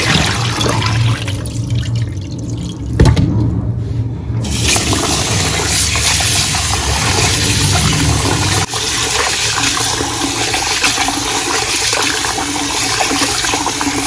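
Continuous splashing and sloshing of water close by, as millet is swished and rinsed by hand, with no voices.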